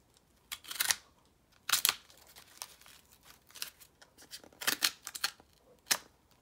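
A utility blade, dull and due for changing, slices through masking tape on a mailed package in a series of sharp, close scratchy cuts and rips. The bursts come irregularly between short quiet gaps.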